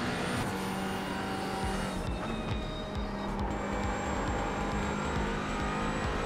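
A Porsche and an Aston Martin race car roar around Suzuka in a racing video game, engines loud and continuous with shifting pitch as they rev and change gear, the sound held steady and close throughout.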